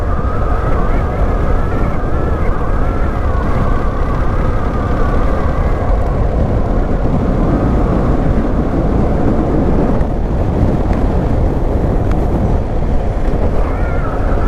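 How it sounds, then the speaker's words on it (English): Loud, steady wind roar buffets a motorcycle rider's open helmet visor on a hot day, with a low engine drone underneath throughout. "Riding with visor open because it's absolutely roasting."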